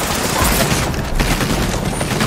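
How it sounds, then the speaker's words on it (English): Rapid, continuous gunfire from an opposing squad in an Apex Legends–style ranked battle royale match, dense and loud throughout with overlapping bursts and no clear pauses. "I'm being shot by another team"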